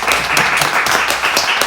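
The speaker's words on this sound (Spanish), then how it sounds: "por favor, un aplauso y muchas gracias." Studio audience applauding after an interview, a short burst of dense, loud clapping, close and continuous.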